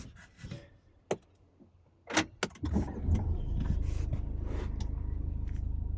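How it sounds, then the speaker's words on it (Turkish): A car's engine is started: a few clicks and key or switch noises, then the starter catches and a steady idle rumble settles in and runs to the end. "Şimdi bir arabayı çalıştıralım"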